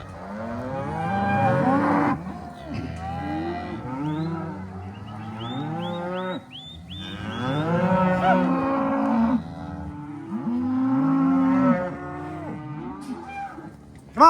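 Cattle on a Colorado ranch moo in a long series of drawn-out lowing calls, several animals overlapping at close to moderate distance, with no talking.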